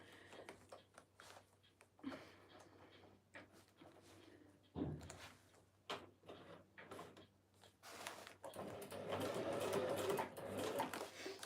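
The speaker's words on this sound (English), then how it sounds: "Sometimes my sewing machine's like, no, I'm done, thanks." A sewing machine sewing a sequin mermaid tail runs in uneven bursts, stopping and starting with mechanical clatter, then hums steadily and loudly toward the end.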